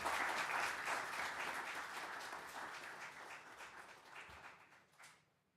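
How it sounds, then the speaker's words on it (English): A crowd at a city council meeting applauds with steady clapping that gradually fades and tapers off to silence, heard from a distance indoors. "If we can give those folks in absentia a round of applause."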